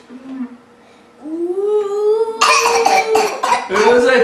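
A voice makes a wavering, ghostly moan that breaks into a series of raspy imitation coughs, close and loud.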